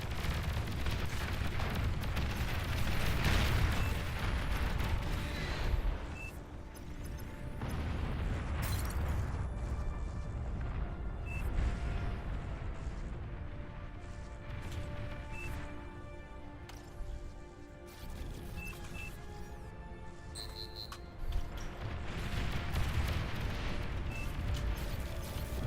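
A nuclear missile blast in a video game, a heavy rumbling boom that rolls on as a sustained low roar with scattered pops and crackles, loud and continuous.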